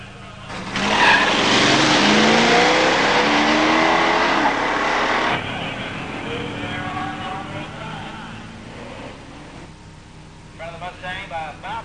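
A 1972 Dodge Demon 340 automatic and a 1968 Mustang 289 automatic launch down a drag strip. A loud engine roar swells and holds for several seconds, then fades into a softer, receding drone while an announcer-style voice talks.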